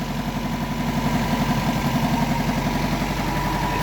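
An idling car engine with its radiator cooling fan running gives off a steady, throbbing mechanical hum under a continuous whirring rush, close and even throughout.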